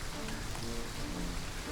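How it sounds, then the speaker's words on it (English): Rain falls steadily across the Serengeti grassland, a dense, even patter on the ground with a low rumble beneath, continuous and unbroken throughout. "When the rain stops, fresh grass will grow on the dampened soil"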